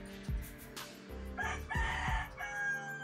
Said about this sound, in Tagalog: Yun, manok.